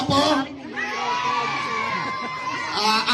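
A live audience at a Filipino dance performance shouts back in response to a host's question, a loud crowd of overlapping voices and cheers swelling at the start and end, close by.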